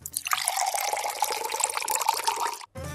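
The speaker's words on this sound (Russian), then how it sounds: "Довел воду до кипения, добавил травяной сбор и лепестки роз, залил кипятком, дал настояться." Boiling water poured from a kettle over dried herbal tea and rose petals, a steady close splashing pour lasting about two and a half seconds before stopping abruptly.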